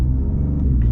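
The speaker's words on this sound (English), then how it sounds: "I love the turbo sound with the Raptor" Shelby Baja Raptor truck with a twin-turbo V6 pulling hard under acceleration in sport mode on the road, a loud, steady low rumble of engine and drivetrain filling the cabin with no talk over it.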